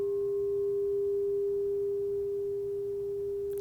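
A crystal bowl rings with one pure, steady tone that hangs unchanged and fairly loud for several seconds with no other sounds.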